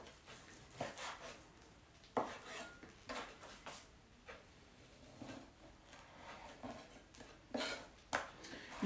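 A knife slices thick raw tuna into strips and cubes for tartare on a cutting board. Quiet, irregular taps and knocks recur every second or so against light kitchen clatter.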